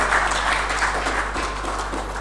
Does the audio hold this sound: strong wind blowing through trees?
no